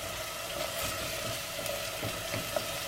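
Garlic ginger paste frying in a small amount of oil, a steady close sizzle with soft crackles and faint stirring scrapes throughout.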